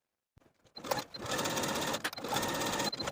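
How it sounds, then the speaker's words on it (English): A sewing machine edge stitching the hem of a linen jacket sleeve, starting after a few light clicks and then running as a steady, fast, close whir for almost three seconds with a brief pause midway. "edge stitch close to that inner fold all the way around"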